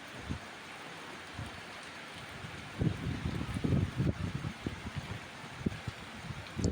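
Heavy rain falls outside a window as a soft continuous hiss, swelling into denser bursts of patter and spatter partway through, fairly faint overall.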